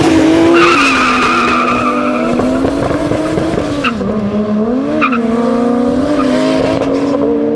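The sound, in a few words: drag race cars launching from the start line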